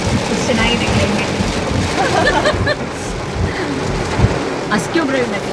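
Steady rain heard from inside an air-conditioned car driving toward Dhanushkodi, a dense continuous hiss with faint patter, under occasional soft voices.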